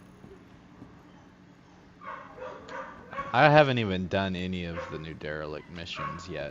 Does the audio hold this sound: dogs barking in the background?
yes